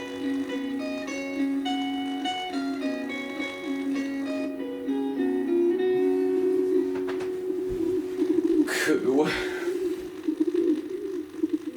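A pigeon coos in an episode of the stop-motion children's series Trumpton, with steady sustained music running throughout and a brief noisy burst near the end.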